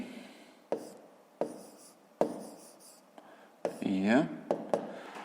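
Pen or pencil writing numbers by hand on paper during a fifth-grade maths exercise, a series of sharp taps and scratchy strokes close up, with a brief louder scribbling burst near the end.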